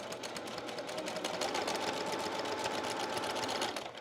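A sewing machine runs continuously while stitching quilt block pieces with a scant quarter-inch foot, a fast, even mechanical whirr and needle chatter, close and steady with no talking.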